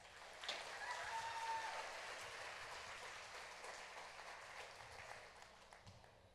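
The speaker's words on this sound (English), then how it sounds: "Give her one more round of applause." An audience at the Choctaw Nation Princess Pageant gives another round of applause, a soft, distant wash of clapping that swells early and then slowly fades.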